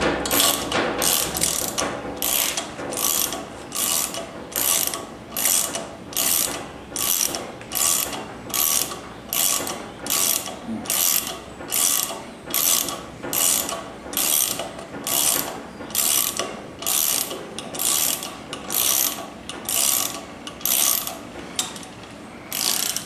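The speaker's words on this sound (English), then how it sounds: "Just going to screw down until it starts getting tight again." A ratchet tool turning a thread repair tap down into an engine's spark plug hole, with steady rhythmic clicking in about two dozen evenly spaced bursts, close and fairly quiet, with no talking.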